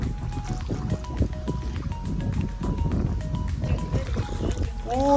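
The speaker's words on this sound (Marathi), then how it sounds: "धबधबा आहे तो चालू आहे, थोडा छोटा आहे, पावसाळ्यात मोठा होतो बघा." A small jungle waterfall splashes and trickles nearby with a steady liquid rush. Voices talk over it.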